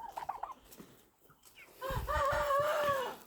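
Chicks in an enclosure cluck and call in a close, busy chorus, a few bird notes first, then a louder overlapping stretch of clucking and crowing-like cries.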